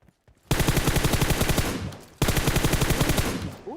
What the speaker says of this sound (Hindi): यहाँ की ओर गोलियां चल रही होती है